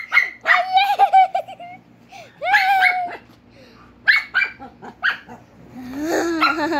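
Two dogs play-fighting indoors, letting out several sharp barks and yips in bursts with whines and growly squeals between, close and loud, while a person talks over them.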